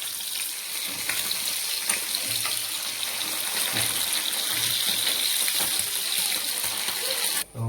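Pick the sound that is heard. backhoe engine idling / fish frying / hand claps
fish frying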